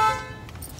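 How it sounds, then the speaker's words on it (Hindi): A car horn sounds a steady tone near the start, then fades into quieter background noise. "हॉर्न"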